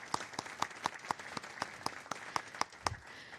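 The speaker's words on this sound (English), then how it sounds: "A big round of applause for Dr. Williams, our moderator, and our fantastic panel." An audience at an LGBTQ+ health panel evening applauds the moderator and panelists: a short burst of crisp, fairly sparse clapping, individual hand claps clearly separated, fading near the end.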